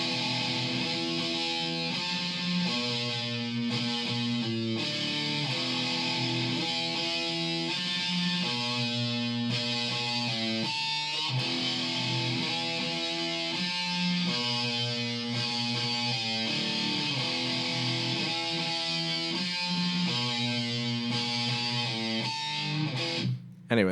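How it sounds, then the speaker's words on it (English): A distorted electric guitar plays a repeating riff in B, loud and continuous with chugging rhythm and sustained chords, alone without any talking. "the first guitar part sounds like this."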